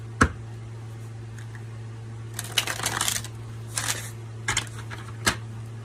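Tarot cards are shuffled close by in several quick riffling bursts with short pauses between them, over a steady low hum, with no one talking.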